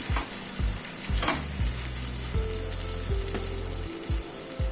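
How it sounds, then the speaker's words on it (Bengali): Spice masala fries and is stirred in a pan, a steady bright sizzle with occasional spoon scrapes and knocks, close and continuous alongside a low background hum. "এবার মশলাটাকে কষিয়ে নিচ্ছি"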